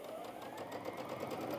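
Brother Innov-is VQ2 sewing machine stitching fabric, a fast, even whirring hum of needle strokes running steadily and close by, alone.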